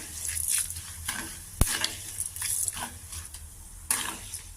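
Tempering spices with asafoetida crackle and sizzle in hot oil for radish-leaf dal, with intermittent stirring scrapes and one sharp tap against the pan.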